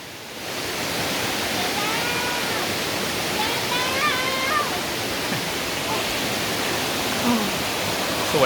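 A continuous rushing waterfall at Erawan Falls, Kanchanaburi, Thailand, a broad steady hiss of falling water close by, with faint voices barely audible beneath it.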